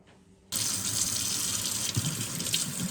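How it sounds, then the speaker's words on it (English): Hot water from a kitchen sink tap starts abruptly after a brief quiet moment, then pours as a steady, close, splashing rush into the basin with no talking. "I'm going to run some water as hot as I can get from the tap"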